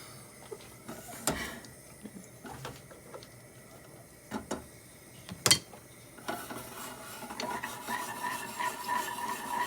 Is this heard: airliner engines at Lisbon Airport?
no